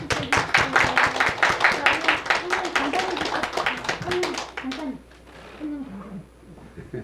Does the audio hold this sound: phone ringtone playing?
no